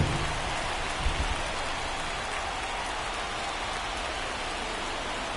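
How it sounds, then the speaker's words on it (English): Steady rainfall in the MLB The Show 24 baseball video game, a dense, even hiss of drops on surfaces with no breaks and no voices. "This rain is not letting up"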